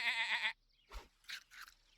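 Cartoon sheep bleats from the video game Super Auto Pets: a sustained bleat followed by three short, bright bleats in quick succession, with no talking.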